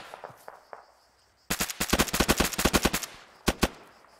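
Automatic rifle fire in the military shooter Arma 3, a sustained burst of rapid shots followed by two separate single reports, loud and sharp, with faint scattered sounds before it.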